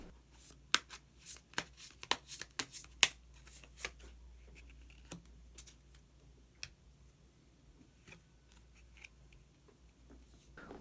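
Close, quiet handling of tarot cards: a series of sharp riffling snaps and flicks during shuffling, followed by scattered soft taps and slides as single cards are drawn, no one speaking.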